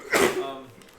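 A single sharp sneeze bursts out up close, then fades into a brief quiet tail of room noise.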